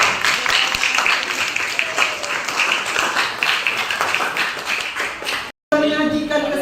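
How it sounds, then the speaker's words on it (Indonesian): A classroom of students claps together, a busy, fairly loud patter of hands that goes on for several seconds before cutting off abruptly, followed by a brief quieter moment. "tepuk tangan untuk kita semua"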